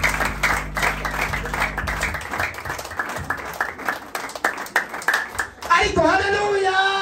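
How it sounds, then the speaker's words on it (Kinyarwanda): A church congregation claps in a steady rhythm for several seconds, the beats fairly loud and close. A voice rises over the clapping near the end. "Abantu tumaze iminsi duterana nibahaguruke nabo dukomera Imana amashyi menshi"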